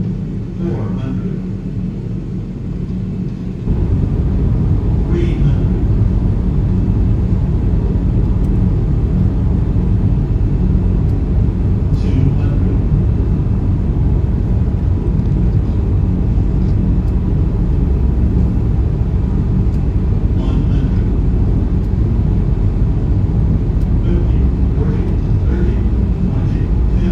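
An airliner lands at Innsbruck in a flight simulator, with a steady loud roar of engines and reverse thrust building after touchdown, continuous and close, with cockpit callouts spoken over it.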